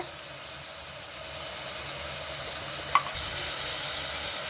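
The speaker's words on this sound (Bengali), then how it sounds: "প্রথমে আমরা এখানে সরিষা তেলে একটু পেঁয়াজ কাঁচামরিচ দিয়ে ভেজে নিচ্ছি ভালোভাবে" Onion and green chili frying in mustard oil in a pan, a steady soft sizzle running throughout with one brief clink near the end, no talking.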